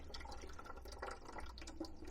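Water trickling from a frozen toilet shutoff valve that cannot be turned off, a faint, steady dribble with small irregular drips and splashes.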